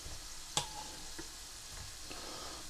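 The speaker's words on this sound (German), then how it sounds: "mit ein bisschen Öl sollen die ein bisschen anbraten" Small Maultaschen fry in a little oil in a pan, a soft steady sizzle with a sharp tick near the start and a few faint clicks of stirring, quiet and without talk.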